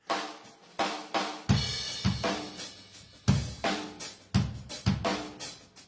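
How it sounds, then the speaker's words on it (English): A drum kit played in a steady groove, picked up by room microphones about 8 feet away with a roomy, ambient tone; kick, snare and cymbals blend together. "These are some room mics that are positioned about 8 feet away from the drum set."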